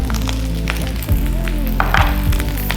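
Shiitake mushrooms dropped into a hot pan with rice and butter, sizzling and crackling loudly up close, with a dull thump as they land and then a busy, steady frying hiss.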